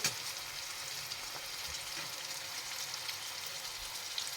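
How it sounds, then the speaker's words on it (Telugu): Onion pieces frying in oil in a home kitchen pan, a soft, steady sizzle with faint crackles throughout, quiet and continuous with no talking. "ఉల్లిపాయ ముక్కలు ఇలా వేసుకున్నాం కదా ఆయిల్లో, దీన్ని మనము గోల్డెన్ బ్రౌన్ కలర్లో ఫ్రై చేయాలన్నమాట"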